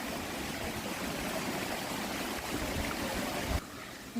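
Water runs down a narrow channel carved into a stone handrail at the Alhambra gardens, a steady close trickling rush that continues throughout, briefly dropping at the end.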